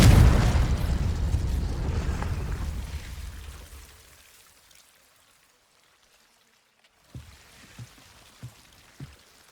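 A Confringo spell blasts in the game Hogwarts Legacy, a loud rumbling explosion that roars then fades away over about four seconds, followed by silence and then four evenly spaced soft thuds.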